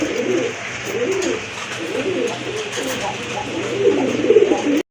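Large pigeons kept for sale coo again and again in low, rolling phrases, close and clear over a steady background hum. A faint voice may sit underneath.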